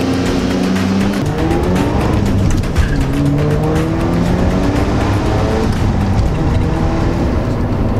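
A 1990s Mazda FD RX-7 rotary engine revs hard toward 8,000 RPM, with loud, sustained rising and shifting engine tones through repeated gear changes, close and continuous, with no talking.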